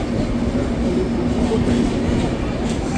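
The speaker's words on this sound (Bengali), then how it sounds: "আলিপুরদুয়ার জংশন রেলওয়ে স্টেশনের 3 নম্বর প্ল্যাটফর্মে এসেছে আমাদের ট্রেন" The Lohit Express rumbles at platform 3 of Alipurduar Junction station, a loud continuous rolling roar with a steady low hum and rail clatter, close by, cutting off abruptly at the end.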